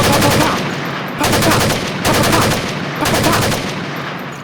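Rapid bursts of gunfire crackle loudly in four long volleys with brief gaps between them, dense and close.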